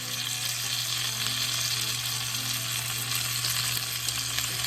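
Chicken frying in a pan for chicken piccata, a steady bright sizzle with constant crackle and a low hum underneath, close and even throughout, no talk.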